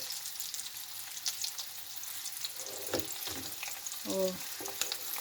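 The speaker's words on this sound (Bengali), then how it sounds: "আলুটা একটু ভেজে নাও, ডিম আলু ভেজে নিয়ে নেবে, সিদ্ধ ডিম আলু আর কি।" Boiled eggs and potatoes fry in a pan with a steady sizzle, joined by a few stirring scrapes and a short clattering utensil knock near the end.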